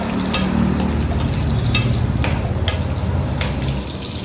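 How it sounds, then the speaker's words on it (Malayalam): Onions tossed into hot coconut oil and stirred briefly, a steady close sizzle with scattered scraping clicks from the spoon running throughout, no talking. "അതിലേക്ക് നമ്മൾ ഉള്ളി ഇടുന്നു."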